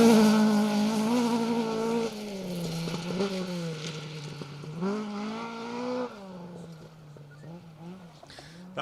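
An orange Ford Escort Mark II rally car on a forest rally stage revs hard through its gears, the engine note rising and dropping through several shifts as it passes close and loud, with a commentator talking over it.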